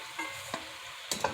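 Potatoes and onions sautéing in butter in a pan give a steady soft sizzle, broken by a few brief scrapes and stirring knocks, close and on their own with no talking.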